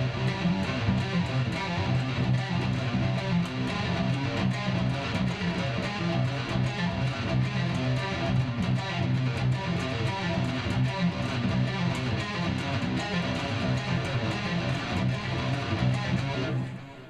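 A second guitar riff recorded in a studio plays steadily and loud, with dense sustained distorted chords and rhythmic attacks running the whole way before cutting off at the end; no one talks.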